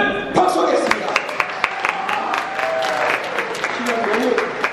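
Wedding guests break into applause during the ceremony, a burst of clapping from the assembled crowd with a few sharp individual claps standing out and voices speaking over it.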